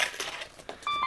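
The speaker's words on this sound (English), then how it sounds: "sorry about my cell phone" A cell phone beeps during a knife review, giving short faint electronic tones near the end of a quiet moment.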